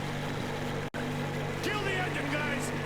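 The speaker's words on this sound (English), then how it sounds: "Kill the engine, guys!" A boat engine in a video game runs as a steady, loud drone with a brief dropout near the start, continuing under a voice.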